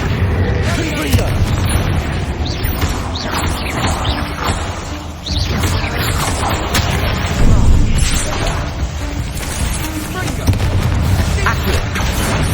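Blasting Bombarda and Confringo spells in Hogwarts Legacy burst into repeated booming explosions, loud and close, with the combat noise continuing densely throughout.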